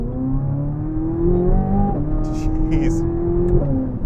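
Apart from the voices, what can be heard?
2023 Corvette Z06 engine revving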